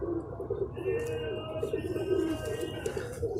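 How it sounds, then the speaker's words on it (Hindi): A golden pigeon coos nearby, a soft rolling call repeated over a faint background murmur. "तो ये मेरा भाई देखें, ये गोल्डन कबूतर है"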